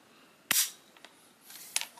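Metallic clicks from a VZ24 Mauser bolt-action rifle during a function check, safety flipped and trigger dropped: one sharp loud click, then a couple of softer ticks and a final pair of crisp snaps, close up.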